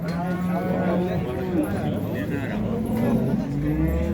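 Cows lowing at a livestock market in Şarkışla, with several deep moos overlapping close by while people talk nearby.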